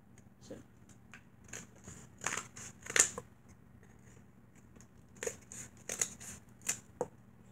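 Scissors trim a piece of cardboard for a guinea pig box fort, giving intermittent crisp snips and crinkly cuts in irregular bursts, close and fairly quiet, with pauses in between.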